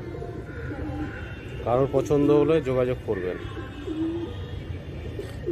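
A pair of domestic pigeons, a male and a female, give a short burst of soft, throaty rolling coos up close, rising briefly and then settling, while someone talks over them.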